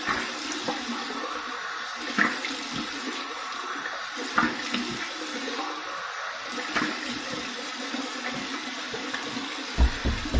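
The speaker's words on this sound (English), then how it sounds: "here's my cold water rinse." Cold water runs from a tap for a rinse during a wet razor-blade shave, a steady close splashing gush with small bumps and shifts in the flow, continuous throughout and with no talk.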